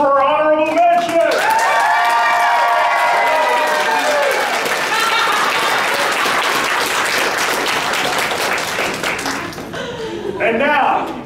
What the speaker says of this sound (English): Let's have a big round of applause for our honorable mention.